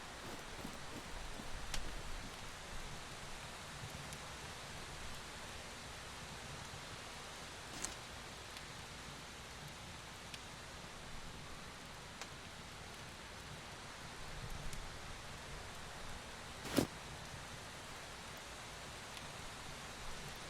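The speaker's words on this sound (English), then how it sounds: "it's still raining" Rain falls steadily in the survival video game SCUM, a soft, even hiss of drops with occasional faint ticks and taps, quiet and without speech.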